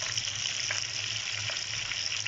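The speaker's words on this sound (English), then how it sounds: "So you can see the other 2 fish I'm frying right now at the moment." Two fish crackling and sizzling in hot oil, a dense steady hiss with small pops, close up and uninterrupted, no talking.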